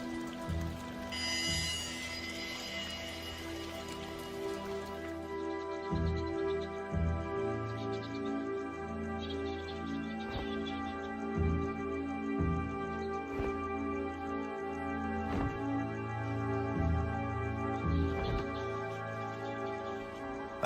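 Steady rain falling over a flying fox camp, a dense continuous patter with drops hitting leaves and surfaces, with occasional heavier drips and faint bird calls in the background.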